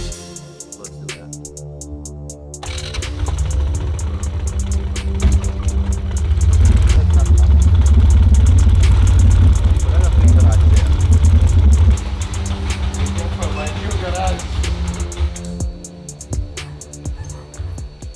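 Homemade quadracycle engine running steadily on a ride, a loud continuous low rumble that swells in the middle and eases off near the end, with voices talking over it.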